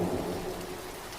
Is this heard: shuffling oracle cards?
no